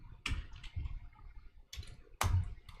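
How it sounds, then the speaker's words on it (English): Code typed on a computer keyboard: a few sparse, close clicks and clacks spread unevenly, with the loudest strikes near the start and end, and no talking. "I'm just going to type out the function first"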